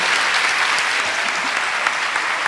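An audience at a closing-ceremony lecture bursts into sustained applause, a dense, steady roar of many hands clapping at once that continues loudly from start to finish.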